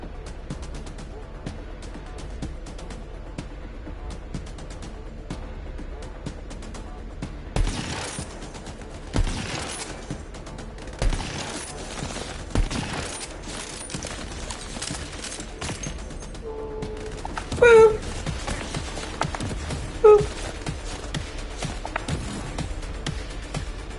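Gunfire in the shooter game Borderlands 3: scattered bursts and sharp single shots crackle across a busy backdrop of in-game effects, with a few louder standout blasts late on.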